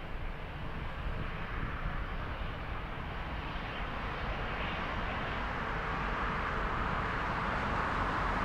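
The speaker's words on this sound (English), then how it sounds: "That's Etihad Cargo Flight 945 inbound from Abu Dhabi. On a 777 freighter." An Etihad Cargo Boeing 777 freighter arriving at Frankfurt airport on its way in from Abu Dhabi gives off a steady broad roar of jet engines that builds slightly from a distance, mixed with some wind noise and no talking.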